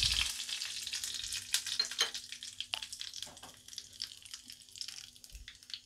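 Mustard seeds sputter in hot oil for tempering a peanut chutney, with rapid irregular pops and crackles over a soft sizzle, loudest early and thinning toward the end.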